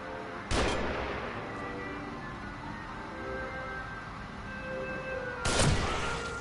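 Two sharp sniper rifle shots ring out in a video game, one early and one near the end, each a loud broadband crack with a short decaying tail over a steady low game ambience.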